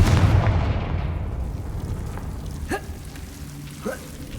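Confringo fire spell from Hogwarts Legacy going off as a heavy, rumbling blast that fades over a couple of seconds, followed by a few faint crackles and sparse small impacts.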